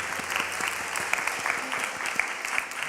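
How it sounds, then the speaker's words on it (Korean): Applause during a church worship service, a dense burst of many hands clapping steadily throughout, close and fairly loud. "큰 감사와 찬양의 박수 드리겠습니다"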